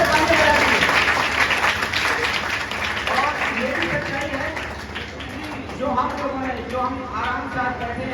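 A seated audience at a talk claps loudly on request, a dense continuous wash of applause with voices rising over it toward the end.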